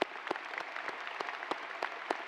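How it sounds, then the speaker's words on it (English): Light, scattered clapping from a small group, evenly paced, over a steady background hum of the room at a college graduation ceremony. "Can we give a round of applause for our supporters, the people there for our journey?"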